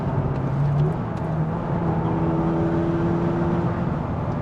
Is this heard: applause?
no